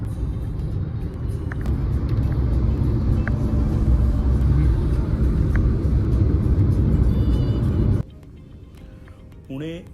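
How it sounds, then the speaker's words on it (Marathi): A BMW car cruises at 110 km/h on the Solapur highway bypass near Indapur, its steady low road rumble and engine drone filling most of the stretch before dropping away abruptly near the end. "ही बीएमडब्ल्यू गाडी आहे एकशे दहा किलोमीटरने चाललेली आहे"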